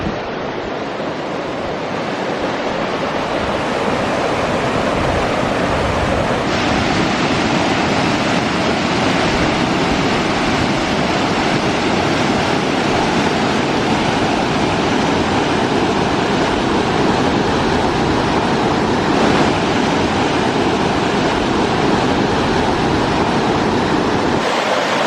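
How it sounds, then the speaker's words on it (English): River water tumbles over a weir beneath an old bridge in the Roseland, Cornwall, making a loud, continuous rushing roar heard close by without letup. "I can hear the water tumbling. Perhaps there's some sort of weir."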